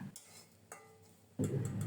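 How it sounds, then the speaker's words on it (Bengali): Grated coconut and green chillies fry in a pan, starting with faint clinks and light stirring. The second half bursts into a louder, crackling sizzle that continues to the end. "এখন দেব কোরানো নারিকেল কাঁচামরিচ কষি"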